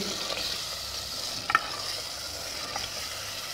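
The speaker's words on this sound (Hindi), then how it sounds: "आलू अच्छी तरह से भूनेंगे" Potatoes fry and are stirred in a spiced masala in a pan, giving a steady close sizzle with a couple of brief clinks of a spoon against the pan.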